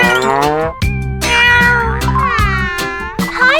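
A cat meows loudly and close, giving a run of drawn-out, wailing meows with rising and falling pitch, almost back to back, with no talk.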